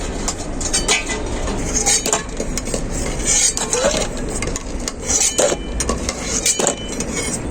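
Boiled eggs lifted out of a pot for egg biryani, with repeated metal spoon scrapes and clinks against the cookware over a steady background hum.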